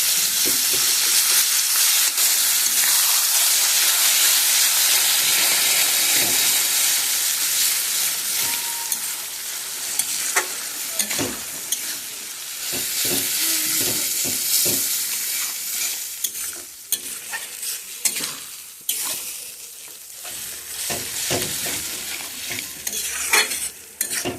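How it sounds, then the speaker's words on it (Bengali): Fish fat and oil frying over a low flame in a pan give a steady close sizzle, with occasional crackles and stirring taps that grow sparser as the frying goes on. "একদম কম আঁচ দিয়ে এখন এটা আমি ভাজবো"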